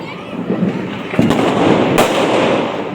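Firecrackers go off during Diwali celebrations in Jaipur. Two sharp bangs stand out over a dense, noisy rumble of background bursts and crowd commotion, with voices faintly present.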